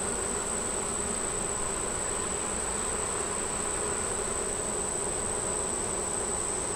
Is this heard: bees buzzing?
yes